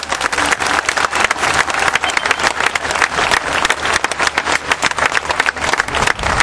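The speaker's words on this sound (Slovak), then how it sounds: "áno, zaslúžia si potlesk." A large audience claps loudly and steadily at a folk song and dance festival, Horehronské dni spevu a tanca, in a dense, continuous round of applause.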